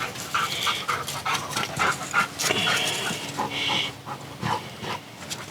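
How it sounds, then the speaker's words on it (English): Jake the dog pants close by, quick rhythmic breaths with a few soft whimpers, steady for several seconds with no talk over it. "Jake the dog's back."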